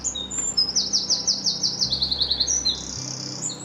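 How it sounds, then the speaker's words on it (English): Birds sing in a vegetable garden in quick, bright repeated trills and chirps, close and clear, over a low steady background hum. "You can hear the birds sing."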